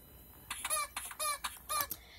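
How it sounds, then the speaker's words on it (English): Stretching, squishing noises from a Pingu cartoon come as a quick series of five or six short, rubbery squeaks, fairly faint and with no talking over them. "did you hear those stretch noises?"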